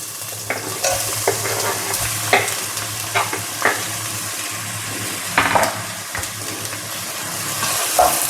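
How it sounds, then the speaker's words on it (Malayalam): Lengthwise-sliced onions hiss and crackle in hot oil for a Malabar chicken dum biryani, a steady close sizzle broken by repeated scraping stirs of a spoon in the pan, with no talking. "നീളത്തിൽ അരിഞ്ഞു വെച്ച ഉള്ളി ഇതിലേക്ക് ഇട്ട് കൊടുക്കാം."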